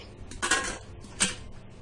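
The lid of a 6-litre Pigeon Swift pressure cooker is set on and closed, making two short metallic clacks close by, a brief rattle followed by a sharper click.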